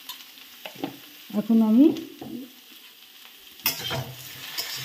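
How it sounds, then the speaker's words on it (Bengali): A pan of badam chingga being stirred after salt goes in, with soft scraping and a low sizzle around a brief spoken phrase, then a louder burst of spatula scraping near the end. "এটাকে নেড়ে নেব"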